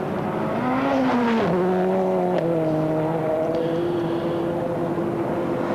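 A Toyota rally car at Rally Finland 1999 drives past, its engine note rising and falling through gear changes, loud and sustained, then fading slightly as it pulls away.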